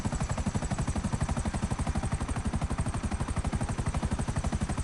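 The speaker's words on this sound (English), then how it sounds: "Man, this chopper sound bad." Helicopter in GTA Online, its rotor thudding in a fast, steady pulse that stays loud and close throughout with a harsh, rattling texture and no voices.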